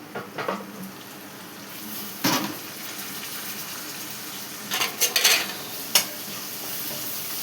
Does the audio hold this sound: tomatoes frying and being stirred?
yes